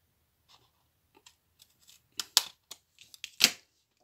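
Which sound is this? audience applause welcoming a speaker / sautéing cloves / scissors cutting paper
scissors cutting paper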